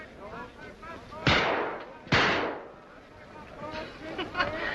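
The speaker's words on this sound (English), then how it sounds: "That's nice shooting, mister. What'll it be, sir? Pistol or rifle?" Two sharp rifle or pistol gunshots at a shooting gallery, loud cracks about a second apart with ringing decay, amid faint background murmur.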